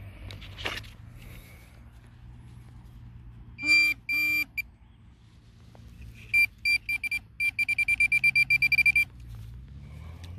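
A metal detector gives off a loud, high electronic tone in short bursts: a couple of beeps first, then a rapid run of repeated pulses over quiet outdoor background.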